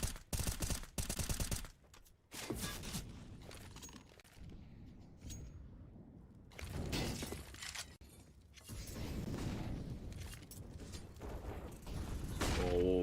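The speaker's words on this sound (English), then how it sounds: "But Zello swings towards the ramp, the same with Stair, and they just mow it down." Rapid gunfire from the video game CS:GO during a competitive match, including SMGs: dense bursts of loud shots and clatter that come in clusters separated by quieter gaps, with no speech.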